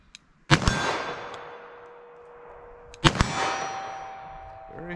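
Two sharp .38 Special +P revolver shots from a 4-inch barrel fired at a target 25 yards away, each a loud crack with a ringing decay, spaced about two and a half seconds apart.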